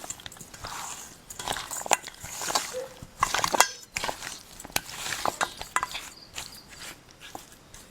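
Hands mixing one kilogram of raw meat with a spoonful of salt, with soft wet squelches, slaps and occasional clinks of a bowl, close and quiet without talk.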